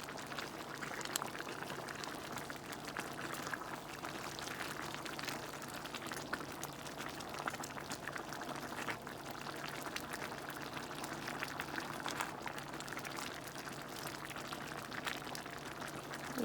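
A chicken and Italian sausage sauce bubbles and simmers in a pot, a soft steady wet crackle and gentle popping that continues evenly throughout, faint and close, with no talking.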